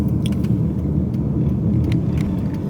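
Steady low road rumble and engine drone from inside a moving car, loud and continuous with no voices.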